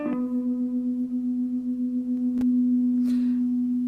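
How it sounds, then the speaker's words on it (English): An electric guitar note played through a compression sustainer pedal rings with a long, even sustain, its tone held steady and smooth, with a couple of faint clicks along the way. "So if we have it playing with the compression sustainer pedal on,"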